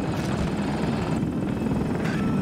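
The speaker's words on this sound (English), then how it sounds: "Hostile aircraft above!" Hostile aircraft in Battlefield 2042 flying overhead, a loud, steady rotor-and-engine roar that fills the whole stretch without letup.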